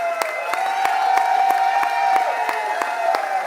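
A crowd at a UAW Local 3520 rally for a record Daimler Truck contract claps and cheers for UAW President Fain, with steady, evenly spaced claps under a sustained wash of cheering voices.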